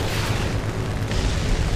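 Tank cannon shot and explosion in the War Thunder video game, a loud, dense boom that fills the short clip with no talk over it.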